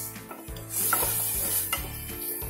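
Chicken pieces with salt being stirred in a hot pan, a steady sizzle running throughout with a few scraping strokes of the spoon against the metal, close and fairly quiet, no voices.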